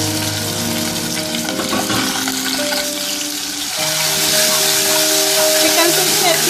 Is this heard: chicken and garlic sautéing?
yes